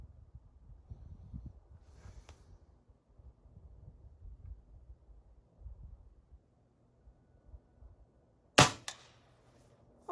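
An airgun pellet strikes an empty aluminum can with one sharp, loud metallic crack after several seconds of quiet low rumble and faint background noise.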